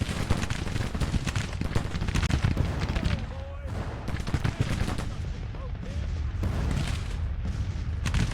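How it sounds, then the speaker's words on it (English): Cannons fire in force on rebels sheltering below a hill in the Civil War strategy game Grand Tactician, dense overlapping booms and volleys rolling continuously with crackling gunfire. "Those cannons are firing in force now on the sheltering rebels below the hill."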